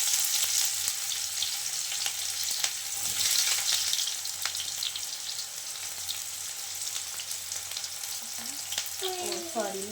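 Onion sizzling in hot oil in a Maharashtrian kitchen after a mustard seed and cumin tempering, a steady close crackling fry that runs throughout with no talk.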